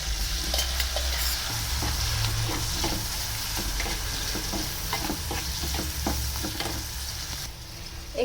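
Boiled mixed vegetables are stirred into a hot, sizzling pan of spiced capsicum for a spicy veg kolhapuri, with steady frying hiss and repeated scraping stir strokes near and clear, no talk.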